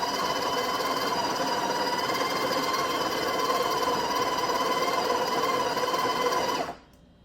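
A Breville Barista Express espresso machine runs its built-in grinder on coffee beans, giving a steady loud motor whine with a dense buzz that carries evenly for about six and a half seconds and then stops abruptly.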